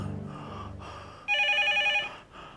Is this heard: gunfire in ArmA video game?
no